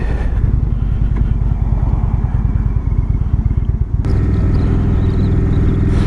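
A 2017 Indian Chieftain Dark Horse, a big heavy cruiser motorcycle, is ridden with a loud, steady low engine rumble and a rapid pulsing beat that deepens into a fuller drone after a sudden shift near the end.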